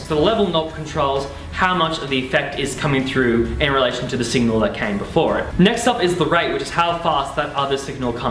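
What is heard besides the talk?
None of the usual background noises is heard.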